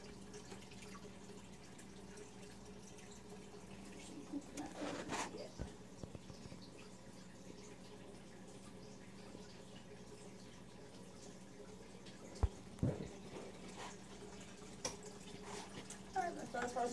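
Water drains from a 20 long aquarium tank through a hose as a faint, steady trickle over low hum, with a few louder clunks and splashes partway through.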